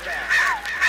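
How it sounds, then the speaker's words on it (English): A single bird honks in a forest setting with a few wavering, goose-like calls, fairly close and clear, over a soft background hiss. "The sound of a bird broke the spell."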